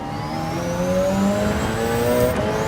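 A race car in Gran Turismo 7 revs and accelerates, its engine note climbing steadily in pitch, loud and close throughout with no talking.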